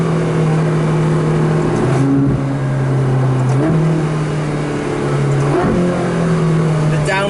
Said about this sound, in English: The Aperta has it even more so when you get the noise out of the back of it as well.